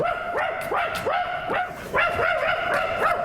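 A female dog barks rapidly and insistently in a theatre staging, roughly ten close, loud yapping barks in two bursts with a brief pause between, no voices.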